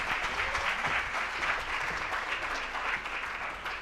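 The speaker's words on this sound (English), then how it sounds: "An applause means a lot to our innovator up here." Audience at a pitch competition final for agripreneurs applauding a contestant, steady full clapping throughout at moderate distance, with no talk over it.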